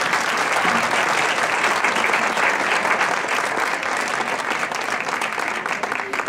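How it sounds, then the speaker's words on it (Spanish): Audience applause at a choir concert, a steady, dense round of clapping that holds for several seconds without easing, fairly close and full, with no voices over it. "Un aplauso otra vez, hombre, que se lo vamos a dar."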